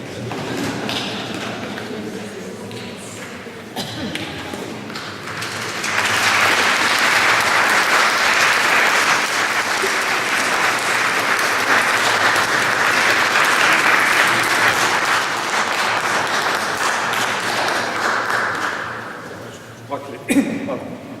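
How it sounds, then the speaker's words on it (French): Sustained applause from an audience at the end of a church mass, building to a steady wash of clapping for about fifteen seconds before fading, with some talk and shuffling around it. "Les applaudissements sont nos remerciements."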